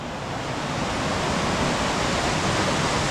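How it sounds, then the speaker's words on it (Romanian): Cascada Cucului, a waterfall on a tributary of the Cormaia river in the Rodna Mountains, roars as a steady, dense broadband rush of falling water, close and loud throughout without any voices. "nu puteam să trec fără să vă prezint Cascada Cucului, Munții Rodnei"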